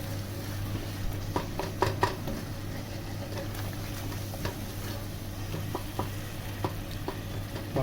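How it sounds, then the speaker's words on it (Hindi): Achari masala and tomatoes frying in a pan while being stirred, a low steady sizzle with scattered clicks and scrapes of a spoon against the pan, close and fairly quiet. "मसाले टमाटर को हम थोड़ी देर पकाएंगे"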